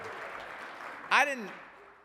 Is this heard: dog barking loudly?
no